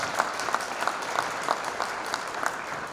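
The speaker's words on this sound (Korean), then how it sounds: "그래서 우리 뜨거운 박수로 우리 감사하다는 표현을 한번 보여드리겠습니다." An audience at the 33rd Chungbuk artists' convention applauds together in a rhythmic, roughly even beat of claps, steady and somewhat subdued from across the hall.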